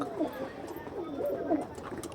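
Pigeons of a prized breed, one with a white feather, coo softly in low rolling phrases beneath steady background chatter, with two brief brighter calls standing out.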